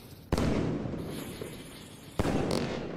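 Fireworks from a Pyroworks video game mod: two sharp, loud shot bursts about two seconds apart, each followed by a crackling, sizzling tail, with a faint whistle in between.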